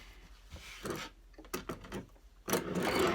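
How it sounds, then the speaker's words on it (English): A sewing machine puts a few stitches into a fabric face mask, heard as short, close bursts of mechanical whirring and clicking separated by brief pauses, with a louder run at the end. "I'm just going to make a couple of stitches here just so it doesn't slide that way"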